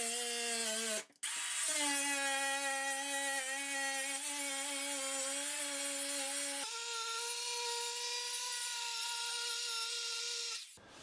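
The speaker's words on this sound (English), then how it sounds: "Edging sander." Edging sander running during tiling work on a sloped shower ceiling, a loud steady motor whine that cuts out for a moment near the start, resumes, then drops slightly in pitch before stopping.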